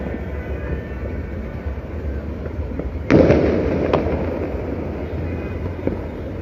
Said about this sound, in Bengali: বাসাবাড়ির ছাদ থেকে কিন্তু আতসবাজি ফুটছে